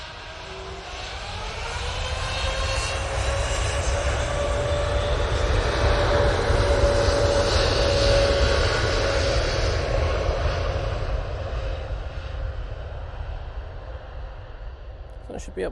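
An airliner at Manchester Airport roars in a broad jet rumble that swells to a peak midway and then slowly fades, heard at a distance with no nearby talk.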